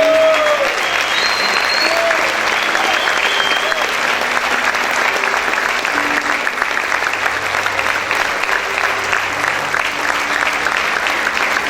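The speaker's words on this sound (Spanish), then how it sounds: "Vamos a aplaudir fuerte al Rey" A church congregation gives long, loud applause during a Spanish-language service, thick continuous clapping sustained for over ten seconds, with scattered voices and cries mixed into the crowd noise.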